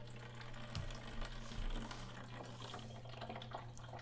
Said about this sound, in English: we pick up the hose, and pour it into the good old gas machine